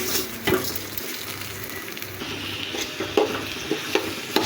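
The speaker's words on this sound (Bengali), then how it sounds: "আমি চালটাকে ভালো করে ভেজে নেব।" Raw rice tossed with onion fried until red-brown crackles and sizzles in a pan, a close, even frying hiss punctuated by regular spatula scrapes and knocks.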